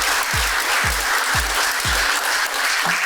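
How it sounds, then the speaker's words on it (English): An audience at a business talk event applauds two guest speakers, a steady wash of many clapping hands with a few heavier nearby claps thudding at regular intervals. "let's give a great round of applause for Lisa and Della."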